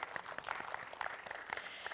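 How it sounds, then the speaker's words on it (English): Faint, distant applause from an audience at a talk, a steady patter of clapping hands that continues evenly for a couple of seconds. "give yourselves a round of applause."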